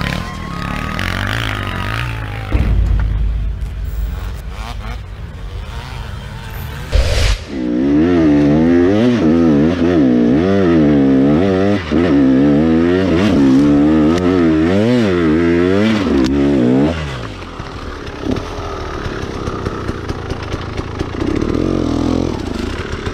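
Two-stroke dirt bike engine, being fixed for smoking too much, starts up, then idles with a rhythmic warbling rev up and down before cutting off, loud and close, followed by quieter clatter and idling.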